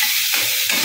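Food frying in a pan while it is stirred for a cauliflower dhoka dalna: a short, close burst of hissing sizzle with scraping stir strokes, no voices.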